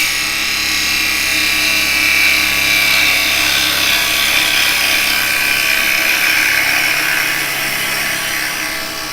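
A woodturning tool cuts into yew spinning on a lathe, giving a loud, continuous, close-up hissing shear with a steady motor hum underneath, broad and unbroken for the whole stretch and fading slightly at the end, with no talking.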